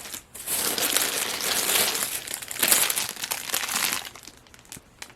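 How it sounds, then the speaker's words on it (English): Crinkling of a large pack of thin, clear plastic acetate craft sheets, a loud, continuous crackling rustle that swells and fades over several seconds with no voices. "This is called acetate, and it goes great in shaker cards."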